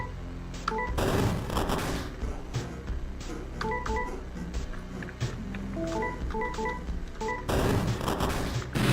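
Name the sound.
shotgun firing in a video game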